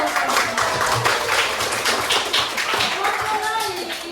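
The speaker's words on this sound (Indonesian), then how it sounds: "Tepuk tangan." A classroom group applauds group 4 in a quick, uneven patter of clapping hands, fairly close and lively, with voices mixed in beneath the claps throughout.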